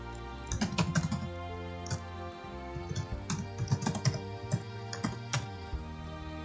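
Keys clatter as an email address is typed on a computer keyboard at a login screen, a run of quick, uneven taps with short pauses, fairly close and alone over a low background hum.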